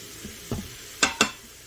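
Meat for carnivore chili fries with onion and garlic on a hot pan surface under a low steady sizzle, broken by a soft scrape and then two sharp, quick stirring strokes close by.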